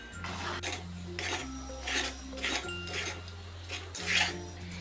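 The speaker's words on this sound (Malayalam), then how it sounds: "നന്നായിട്ടൊന്ന് ഇളക്കി കൊടുക്കണം" A utensil scrapes and rubs against a metal pan in repeated strokes, stirring ripe mango curry with ground paste, with a low steady hum underneath and no speech.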